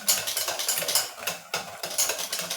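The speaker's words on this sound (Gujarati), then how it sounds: "મેંગો પલ્પ એડ કરીને પણ આપણે બરાબર મિક્સ કરી લેશું" Mango pulp is stirred into tea cake batter in a bowl, giving quick, rhythmic scraping strokes of a spoon or whisk, close and moderately loud with a brief pause midway.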